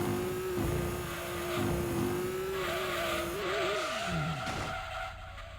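A car in the racing video game Gran Turismo 2 drifts through a turn: a steady engine drone with tires squealing and skidding, then a falling pitch as the car comes out of the slide, loud and continuous throughout.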